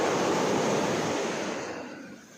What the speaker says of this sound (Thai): จะสังเกตว่าคลื่นทะเลจะลูกใหญ่